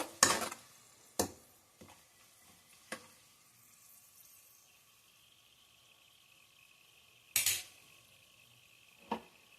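Kasuri methi fries in a pan for carrot rice, a faint steady sizzle under several sharp clinks of a spoon against the pan, no talking.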